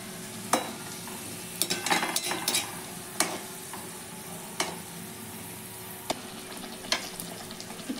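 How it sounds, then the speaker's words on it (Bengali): Pea-filled kachori fry in hot oil as a steady close sizzle, broken by several sharp clicks and scrapes of a utensil turning them; no talking. "একটু লাল করে ভেজে নিচ্ছি।"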